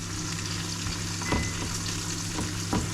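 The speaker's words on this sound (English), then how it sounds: "cooking down my onions, get them caramelized" Onions cooking down and caramelizing in a pan, a steady close sizzle with a few louder stirring scrapes, no talking.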